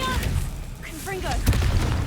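A Confringo fire spell explodes in Hogwarts Legacy as a brief, forceful boom with a rumbling low end, mixed with a shouted voice in a loud combat scene.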